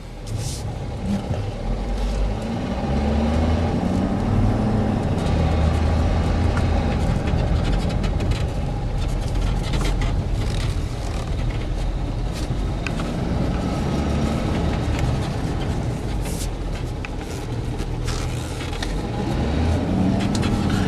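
A 2013 Ford F550 4x4 rollback flatbed truck rolls over gravel in four-wheel drive, its steady low engine drone and road rumble continuous and fairly loud throughout with no pauses.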